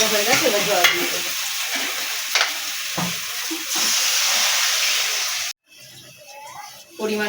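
Fish curry with spices fries in a pan, with steady loud sizzling, intermittent scraping stirs, and a sharp hissing burst as conditions change near the end; a voice talks briefly over the cooking.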